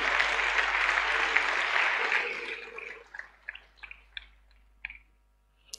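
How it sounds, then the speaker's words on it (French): Audience applauding men at a Mont Carmel 2022 teaching gathering, dense clapping from a crowd that holds for a few seconds, then thins into scattered individual claps before fading out. "Est-ce qu'on peut acclamer pour les hommes?"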